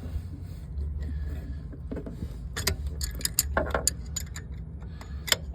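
A wrench is worked back and forth on the seized engine of a locked-up Bobcat 200 Air Pak diesel welder compressor, giving faint, irregular metallic clicks and ratcheting ticks over a low background hum.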